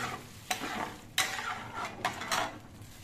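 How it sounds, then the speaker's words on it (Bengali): Amul milk powder being stirred by hand into warm water in a pot while making batasa pitha, soft intermittent swishing and faint scraping strokes, close and quiet with no talking. "আমুল দুধ দিতে হবে আর হাত নেড়ে মিশিয়ে নিতে হবে"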